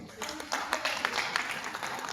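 A conference audience at a tribal literary gathering in Bhopal clapping, scattered irregular claps that rise and fall moderately, with a voice speaking faintly underneath.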